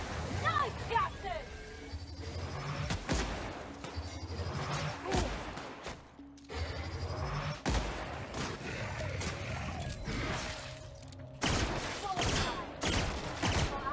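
Sharp gunshots from a gun in The Outer Worlds ring out in repeated bursts during a fight, fairly near, mixed with combat effects and a voice talking.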